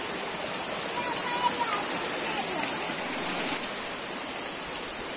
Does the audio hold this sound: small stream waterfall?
yes